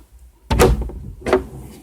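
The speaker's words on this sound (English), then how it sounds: "I'm going to open the door." AC Cobra car door opening, heard as two distinct mechanical clunks of the latch and hinge about a second apart, close and fairly loud, with no voices.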